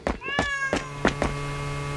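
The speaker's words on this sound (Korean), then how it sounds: "사이보그 냥이네 이건" A cyborg cat in the video game Honkai Impact 3rd meows several times in quick succession, clear, close and tonal over a faint steady background hum, with no talk.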